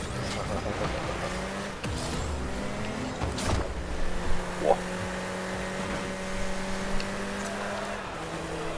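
A car engine hums and revs in the Rocket League video game, a steady droning with tonal sweeps and a few sharp impact bursts, playing on without speech.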